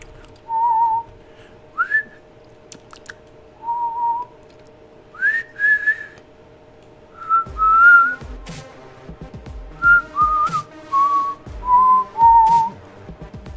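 A person whistles a song tune in short melodic phrases, clear and close, with brief pauses between them and faint background noise underneath.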